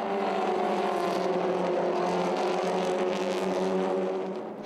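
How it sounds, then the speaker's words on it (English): TCR Europe touring race cars, including a Volkswagen and a Hyundai, roar past at full throttle in a steady, loud, dense engine blare that holds for several seconds and eases slightly at the end. "Maxime Potti's Volkswagen, after that poor start from 3rd on the grid, managed to overtake Matto Homola's Hyundai for 5th position"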